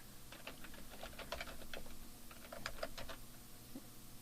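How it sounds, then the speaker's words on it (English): Keystrokes on a Macintosh computer keyboard while entering text into an HTML document, a quick uneven run of close, crisp clicks with short pauses, fairly quiet and with no talking. "and I'll type ingredients"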